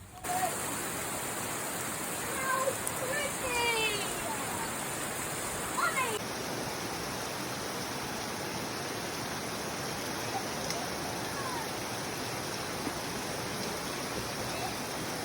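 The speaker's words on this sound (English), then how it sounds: "this beautiful green waterfall that our kids thought was a literal fairy garden" A small green waterfall at Big Burn Falls, a steady broadband rush of falling water that stays even and continuous throughout, with a faint brief tone early on.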